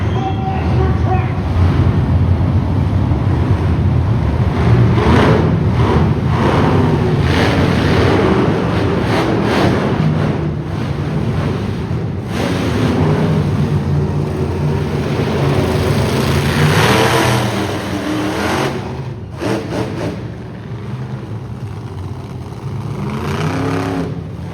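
A monster truck engine at a motorsports show in Saskatoon roars and revs loudly and continuously, heavy throbbing power swelling and easing amid crowd noise and an announcer's voice.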